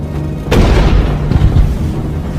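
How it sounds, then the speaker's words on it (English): A single loud cannon shot booms close by, a heavy low blast followed by rumbling reverberation that lingers for about two seconds. "The first cannon shot of the Second World War is fired on Danzig."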